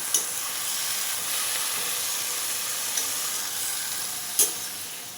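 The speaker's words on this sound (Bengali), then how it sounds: "নাড়াচাড়া করে নিচ্ছি তারপর স্বাদ অনুযায়ী লবণ দিয়ে একটু ঢাকনা দিয়ে ঢেকে দেবো" Pumpkin greens sizzle steadily as they are stirred in a hot wok in a village-style Bengali kitchen, with a continuous hiss and a few faint utensil clinks, and no talking.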